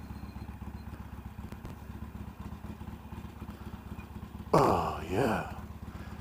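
Motorcycle engines idle at a driving school, a steady low rumble running under the whole stretch, with a man's brief speech rising near the end.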